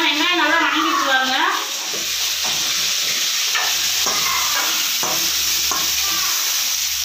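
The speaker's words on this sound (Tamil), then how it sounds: "இப்போ பாருங்கள் வெங்காயம் நல்லா வணங்கிட்டு வாங்க" Chopped onions sauté in a hot pan while a spoon stirs them, giving a steady close sizzle with repeated scraping strokes and someone talking over the cooking.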